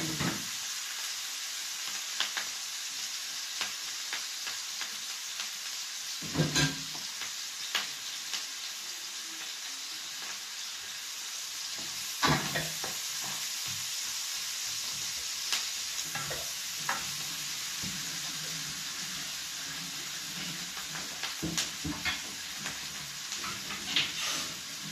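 Onions sizzle steadily in a frying pan while chicken adobo is being prepared, with a continuous hiss broken by occasional louder pops and stirring scrapes, close and alone without talk.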